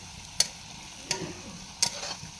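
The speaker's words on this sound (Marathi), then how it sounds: "आता आपण हा हलवून घेऊ, म्हणजे मिक्स करून घेऊ." Salted fish being stirred into wild vegetables (digwadi) in a pan, cooked the tribal way: three separate, sharp scraping strokes against a low background, with no talking.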